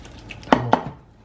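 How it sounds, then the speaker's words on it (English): Two sharp clacking knocks of a utensil against a bowl while whole grain mustard is mixed, close and alone, with a short scrape trailing after. "2 teaspoons of the whole grain mustard, and we'll just mix that together."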